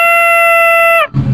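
Small torotot toy party horn blown once in a loud, sustained buzzy blare lasting about a second before cutting off, close to the listener.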